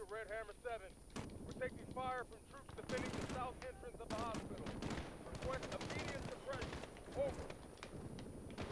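Gunfire in the Call of Duty Modern Warfare campaign, with bursts of shots and loud impacts alongside raised voices talking throughout.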